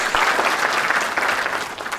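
A conference audience at a regional health forum claps in steady, dense applause, a full room of hands close and loud throughout with no pauses.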